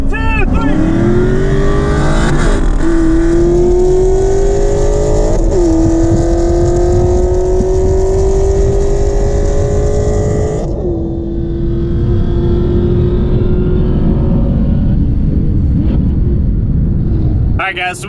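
A Ford Mustang and a Chevrolet Camaro race from a standing start, engines screaming loudly as they climb through several gear shifts before backing off and fading under a lingering rumble, with a voice heard briefly.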